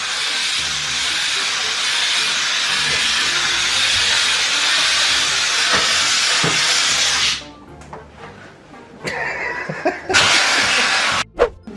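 A steam cleaner is used to steam-clean a family house. A loud, continuous close hiss lasts about seven seconds, then cuts off, followed by a few shorter bursts of steam and quiet clatter.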